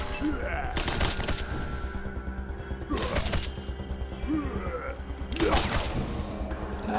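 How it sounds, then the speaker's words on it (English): Enemies fire guns in a post-apocalyptic wasteland video game, with bursts of rapid gunfire at about one, three and five and a half seconds over a steady background hum of game sound. "these guys shoot so many bullets"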